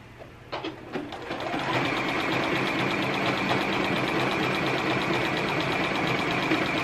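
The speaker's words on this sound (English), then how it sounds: "It is such a pleasure to sew when your machine works" Sewing machine stitching a bra, running fast and steady with a continuous even mechanical whir after a few short starts, loud and close with no talk.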